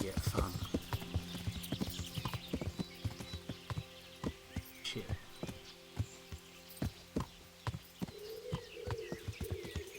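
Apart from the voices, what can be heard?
horse hooves clip-clop in the video game Kingdom Come Deliverance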